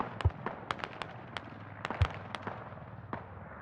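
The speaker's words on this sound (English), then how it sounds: "No more mortars flying on 37." Mortar fire in the military shooter game Squad on the Gorodok map, a series of distant booms and sharp cracks scattered irregularly across a few seconds, faint and without voices.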